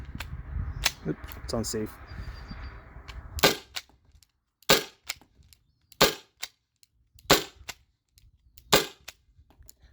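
Byrna SD launcher upgraded with a 12 gram CO2 performance part, firing five or six sharp, loud pops at irregular intervals of about a second, close up, with someone talking briefly before the shots.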